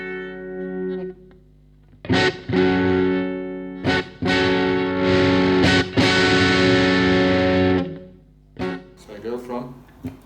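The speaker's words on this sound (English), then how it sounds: "When I use the distortion, I turn down the volume on the guitar so that I get it slightly cleaner." Electric guitar driven through a distortion effect with its volume knob turned down for a slightly cleaner tone, sounding loud, sustained chords in bursts separated by brief pauses, with sustained ringing sections.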